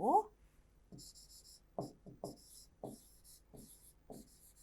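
Pen writing on paper in short scratchy strokes, about eight quick bursts with brief pauses between them, close and fairly quiet, with a voice speaking briefly at the very start.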